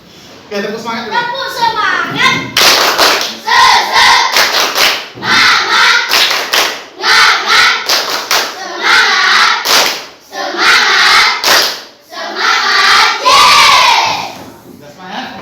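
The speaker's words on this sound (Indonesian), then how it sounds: "Oke, tepuk semangat dulu." A class of children claps a rhythmic spirit clap in a school lesson, loud and patterned in bursts, with children's voices chanting and shouting along throughout.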